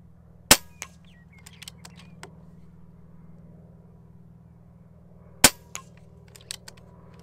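An Air Venturi Avenger air rifle fires two sharp pellet shots about five seconds apart outdoors over a low engine hum, each shot followed by faint clicks and handling noises.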